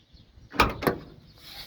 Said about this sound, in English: This door